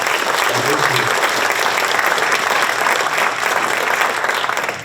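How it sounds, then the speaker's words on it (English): An audience at a Firm of the Year business awards ceremony gives loud, dense applause for companies marking anniversaries, a full steady roar of clapping close by that eases slightly near the end. "Please applaud these businesses for their anniversary."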